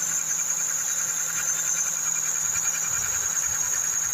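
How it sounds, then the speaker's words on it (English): Mk3 Ford Cortina Estate engine idling steadily with a constant even hum and a faint high whine, close by and alone without talk. "The engine is running nicely, which is good."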